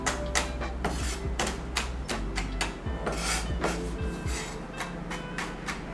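Kitchen knife crushing allspice on a board: a steady series of sharp, close knocks and scraping taps, repeated irregularly, with no talking.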